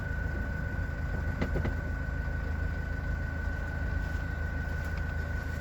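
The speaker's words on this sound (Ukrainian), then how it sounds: "Заводиться автомобіль добре, працює двигун рівно, без перебоїв." A 2005 Nissan Primastar van's engine idling steadily and evenly at close range, a constant low mechanical hum with no misfires and no talk.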